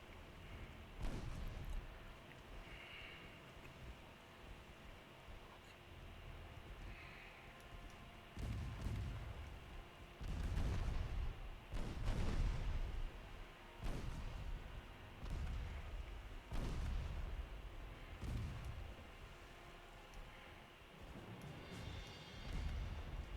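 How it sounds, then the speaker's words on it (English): Warship secondary guns firing at an enemy transport in a naval strategy game, heard as a series of heavy booming blasts at irregular intervals over a steady low rumble of battle ambience. "I want at least my secondary guns firing at the transport."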